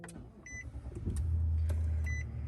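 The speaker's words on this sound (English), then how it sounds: "Car's running because I've got my key in the car now" A car engine turns over and settles into a steady low idle close by, preceded by a few short electronic beeps and a brief chime, on a drizzly, foggy morning.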